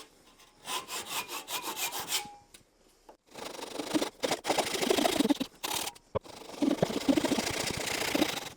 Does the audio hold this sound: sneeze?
no